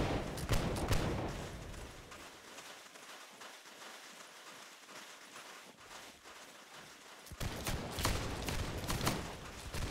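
Massed musket volleys crackle in Holdfast: Nations at War, a dense burst of shots opening the stretch, then scattered distant pops and rain-like crackle before a second loud ragged volley near the end.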